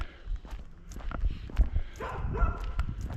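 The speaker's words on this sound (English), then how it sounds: "They hear somebody's voice and they start barking." A dog barks and yips a few times at a distance, mixed with footsteps and rustling nearby.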